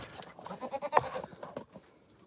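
A mother goat and baby goats bleat several times in quick succession close by, a cluster of loud calls early on, then quieter rustling as they trail off.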